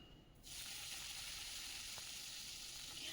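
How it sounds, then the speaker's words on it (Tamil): Pirandai pieces dropped into hot oil: a sudden, steady hiss of sizzling that starts after a brief quiet moment and carries on evenly, close and fairly soft. "பிரண்டையை குட்டி குட்டியாக கட் பண்ணி எண்ணெயில் சேர்த்து நல்லா வதக்கலாம்."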